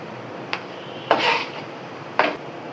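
Coconut filling stirred in a pan on the stove: three separate scraping clinks of a utensil against the pan, fairly quiet and spaced apart over a soft background hiss.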